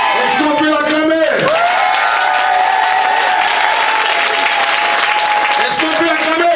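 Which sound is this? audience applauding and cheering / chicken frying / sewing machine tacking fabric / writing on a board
audience applauding and cheering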